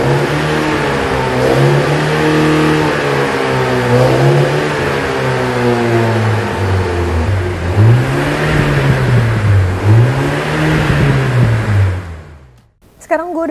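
Mini John Cooper Works engine revving repeatedly, its exhaust in boost mode sending the pitch rising and falling in loud close waves before it cuts off near the end.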